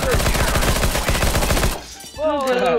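Rapid automatic gunfire in CS:GO, an even rattling burst of close, loud shots that stops abruptly, followed by a shouted voice.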